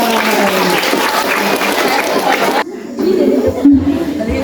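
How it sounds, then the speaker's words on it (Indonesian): Loud applause and chatter from students at an anti-drug awareness talk, clapping mixed with crowd voices for over two seconds before dropping to quieter murmuring and a few scattered sounds. "Tepuk tangan."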